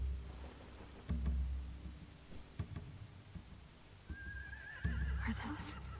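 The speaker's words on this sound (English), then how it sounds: "They have horses." Horses in The Walking Dead video game give a whinnying neigh over faint low thuds and shuffling, heard at moderate distance.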